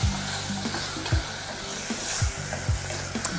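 A basil mixture is stirred in a pan, with a steady sizzle running throughout and several scraping strokes of the spoon, about four or five in all, close and moderately loud, with no voices.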